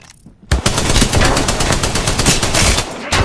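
Sustained automatic gunfire in Apex Legends, a loud, rapid stream of shots lasting about two and a half seconds before cutting off, with a quiet lead-in.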